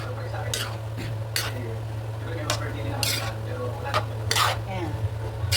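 Green beans tossed and stirred in a hot pan for a home-cooked meal alongside fried chicken, with a steady sizzle and several sharp scrapes of a utensil against the pan at irregular intervals, close and fairly loud.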